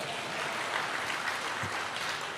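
Church congregation clapping, a steady broadband patter of many hands filling the space for a couple of seconds, fairly even in loudness with no voices on top.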